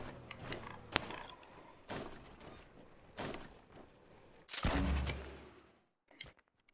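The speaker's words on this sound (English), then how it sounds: "I didn't mean to shoot that, by the way. That was like an accidental firing" An accidental gunshot in a video game, one of several sharp, close reports spaced about a second apart, followed by a louder blast with a lingering low rumble, then a short mechanical clatter.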